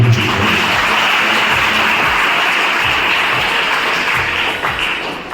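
Loud, sustained applause from a crowd at a Kini high school event honouring the organisers, a dense wash of clapping filling the whole stretch and easing slightly toward the end.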